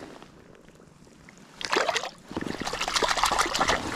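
A trout slipping from hand back into river water, a short splash and swirl up close, then steady trickling and rippling of the flowing river carrying on.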